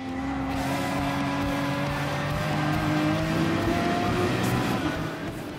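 Race car engines in the video game GT Sport, a steady blend of whining engine tones rising and falling in pitch as a pack of cars is chased, moderately loud and continuous with no talk.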